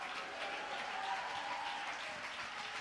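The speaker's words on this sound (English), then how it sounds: "Clap your hands and shout hallelujah." A church congregation at a Pentecostal service clapping their hands, a steady, fairly faint wash of clapping with no voices over it.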